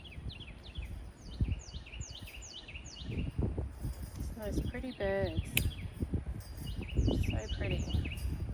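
Birds sing bright repeated chirping phrases outdoors on a homestead, one trilling call rising midway, heard over close rustling, handling noise and brief talk.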